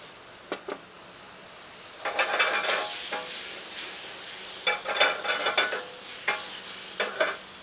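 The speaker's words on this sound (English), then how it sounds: "we're going to saute them for another 2 minutes, and they'll be very tender" Shallots sautéing in a pan, a soft steady sizzle with repeated scraping stirs, close and fairly quiet.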